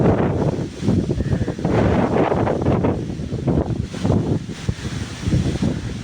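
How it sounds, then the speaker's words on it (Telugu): Strong storm wind roars in heavy, buffeting gusts just after rain, a loud low rumble battering the microphone nonstop for several seconds. "గాలి మాత్రం చాలా ఎక్కువగా వేస్తుంది"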